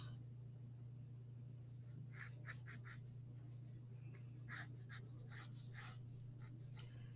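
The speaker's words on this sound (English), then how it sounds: "I'm going to start my sketch of a flower vine here" Colored pencil scratches across paper while a flower vine is sketched, giving quiet, irregular strokes in short bursts over a steady low electrical hum, close and soft.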